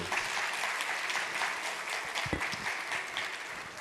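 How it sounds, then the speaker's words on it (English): Audience applause at a conference session, a dense, steady wash of many hands clapping at close-to-moderate distance, holding evenly throughout with faint voices mixed underneath. "Très bien dit, applaudissez."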